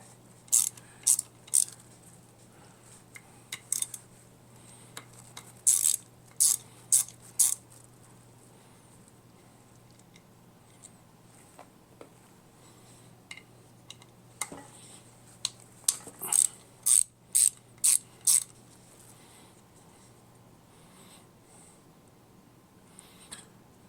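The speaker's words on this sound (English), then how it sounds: "I'm just going to start out by getting all these bolts out of here." Bolts come out of a C4 automatic transmission valve body with a ratchet wrench, making sharp metallic clicking in short, separated bursts of several rapid strokes, with quiet pauses between them.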